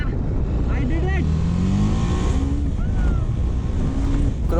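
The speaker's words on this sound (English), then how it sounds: "Will my bike climb this?" A TVS Apache RR310 BS6 motorcycle climbing an off-road slope, its engine loud and close with rising and falling revs over wind rumble.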